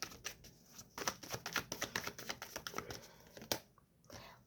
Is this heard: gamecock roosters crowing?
no